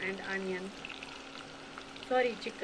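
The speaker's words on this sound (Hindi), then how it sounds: "अब मैं यहाँ पे तड़का लगा रही हूँ दूसरे का" Oil sizzles and crackles in a pan as spices are tempered, louder at the start and again near the end, with faint talking underneath.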